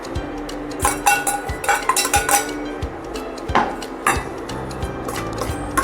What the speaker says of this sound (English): roast it until golden brown color little bit without oil or ghee